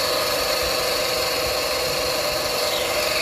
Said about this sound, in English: I'm going to turn on the AC now and see if that's making any noise.